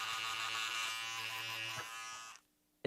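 Electric shaver with a regular shaver head attached, buzzing steadily close by with a harmonic motor whine, then switching off abruptly near the end, followed by a brief click.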